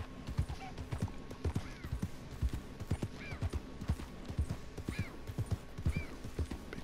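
Horse hooves clip-clop steadily in Red Dead Redemption 2 gameplay, an even walking rhythm at moderate distance, with faint snorts and a soft whinny mixed in.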